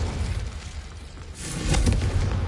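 A Confringo blasting spell going off in Hogwarts Legacy, a low rumbling burst that swells after a quieter stretch, with crackling bright edges and a heavy booming tail near the end.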